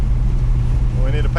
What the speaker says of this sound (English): We're just chugging along at 23 or 2400